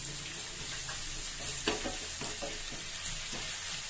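Ginger garlic paste sautéing with softened onions in hot oil: a continuous sizzle with a few scraping stir strokes, close and moderately loud, no speech.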